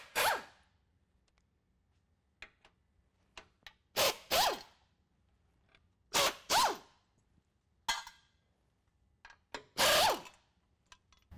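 A power tool with a 15mm socket spins out truck cross-member brace bolts on a 2014–2017 Chevy GMC 1500, in several short whirring bursts separated by quiet pauses, close up.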